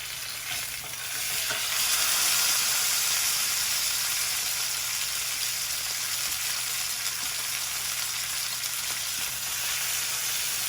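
Apricot pork browning in a hot pan, a loud continuous sizzle with a bright hiss that swells early then holds steady, close and alone.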